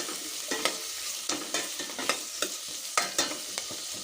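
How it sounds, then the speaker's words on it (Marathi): Onions frying in a pan over a high flame until brown for a home-style chicken biryani, with a continuous close sizzle broken by frequent rhythmic scraping stirs of a spatula. "आपले कांदे होते ते छान तळून घ्यायचे आहेत ब्राऊन कलर होईपर्यंत"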